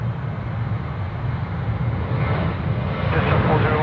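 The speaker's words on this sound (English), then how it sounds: "737 now departing off to Brisbane." A Boeing 737 airliner departing Sydney Airport, a steady low engine roar that swells slightly louder toward the end, with no clear talk over it.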